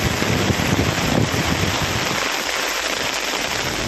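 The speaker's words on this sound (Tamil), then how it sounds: "கனமழை கொட்டியது" Heavy rain pours down in the Nagapattinam district of Tamil Nadu, a dense, continuous hiss of downpour with no voices heard.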